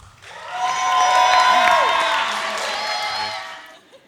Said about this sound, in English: how about a big round of applause for your first toast this evening, your best man